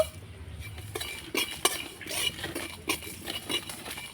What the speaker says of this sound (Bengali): এই শুকনো খোলায় আমি মশলাটা ভেজে নেব